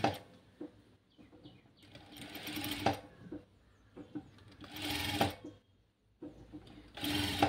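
Sewing machine stitching slowly over gathered fabric on a child's frock, short mechanical runs of rapid needle chatter separated by pauses, close and moderately loud with no talk.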